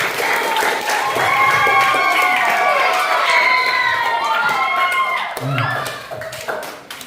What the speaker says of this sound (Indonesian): Berikan aplaus untuk Kakak Maria.